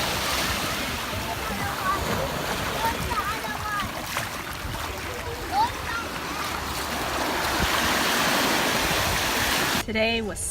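Ocean waves wash in continuously at the beach on a Sunday outing, a broad rushing surf that fills the whole stretch with people talking faintly underneath.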